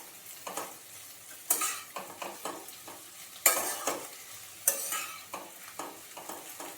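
Hilsa fish head and bitter gourd curry is stirred in a hot pan with a spoon, giving repeated soft scraping strokes over a quiet sizzle, with a few sharper clinks against the metal.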